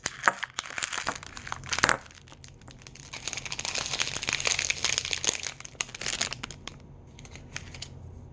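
Tape and plastic packaging on a fidget toy box being pulled and torn open, close up: a steady run of crinkling, crackling and ripping with a few sharper snaps, no talking.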